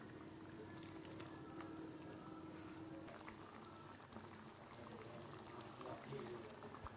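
A pot of brinjal tamarind curry bubbles and simmers steadily, a soft continuous gurgle with small popping bursts, close and faint, with no talking.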